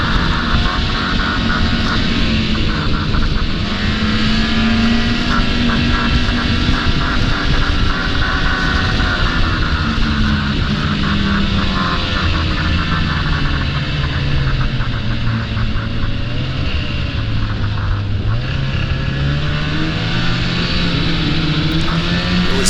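A 2016 snowmobile with the X package runs along a trail, a loud, steady engine drone whose pitch rises and falls gently as the throttle shifts, close and constant throughout with no voices.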